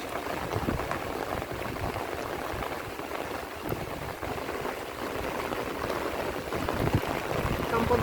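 Steady rain patters and hisses continuously, a dense wash of droplets with no clear pauses.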